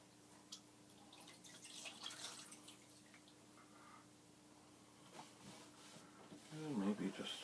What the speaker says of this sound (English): Time to rinse.